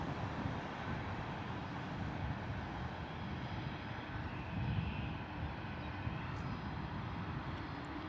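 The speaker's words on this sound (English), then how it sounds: "A321neo heading out to Malaga, British Airways." A British Airways Airbus A321neo jet departs Heathrow, bound for Malaga with its landing gear still down, giving a steady, broad engine roar that holds at an even level throughout, with no voices.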